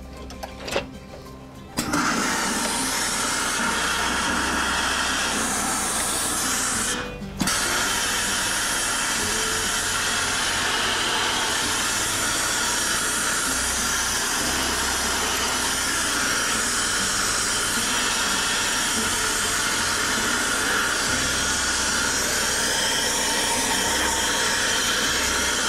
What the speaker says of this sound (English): The blocking machine, when we put it underneath here, we'll grab the brim, we'll steam it up and pull it out.